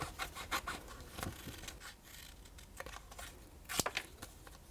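A paper silhouette of a bird for a stencil is cut out with scissors or a cutter, giving close, irregular snips and rustling scrapes of paper.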